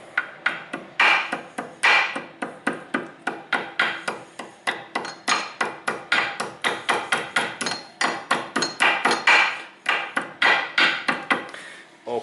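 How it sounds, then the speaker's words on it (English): Repeated hammer blows ring out at close range on a driveshaft axle part, a steady run of sharp metallic strikes with brief pauses between bursts, no talking. "and then I can use my hammer"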